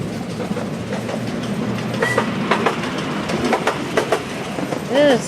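A train in a Webkinz game clatters steadily along its rails, rhythmic clickety-clack wheel noise continuing throughout with a brief squeal near the end.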